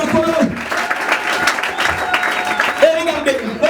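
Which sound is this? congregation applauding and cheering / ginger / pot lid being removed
congregation applauding and cheering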